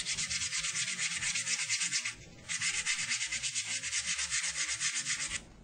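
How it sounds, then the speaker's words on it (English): Wet/dry sandpaper rubbing over dental stone models in long, steady, rasping strokes, loud and close, with a brief pause near the middle before the scrubbing resumes. "start by using wet,"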